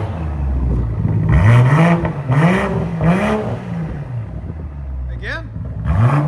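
A straight-piped 2021 BMW M340i with the 3.0L turbo inline-six revs in sport mode. Four loud, close revs climb and fall in quick succession, followed by a brief higher blip. The engine idles in between, and people talk over it.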